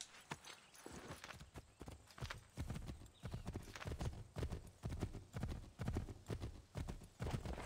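Horse hooves clip-clop in the Assassin's Creed 3 video game, a steady, close, rhythmic gait of evenly spaced thuds that carries on without a break.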